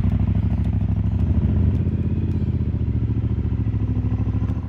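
A motorcycle rides along an Alpine road on a touring trip, its engine droning steadily and loudly with a rapid pulsing rhythm and some clatter, with no voices.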